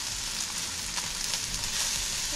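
Chicken fried rice sizzling and being stir-fried in a hot pan, a dense, continuous hiss with faint scraping from stirring, close up and steady throughout.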